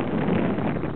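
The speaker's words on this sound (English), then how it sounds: "It got windy" Wind roars and buffets against the microphone outdoors at a paper airplane flying session, in a dense, continuous rumble, with no voices.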